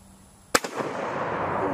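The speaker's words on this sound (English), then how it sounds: "Let's send another round downrange." A rifle fires a single round downrange, a sharp, loud close crack followed by a rolling outdoor echo and a sustained wash of reverberation.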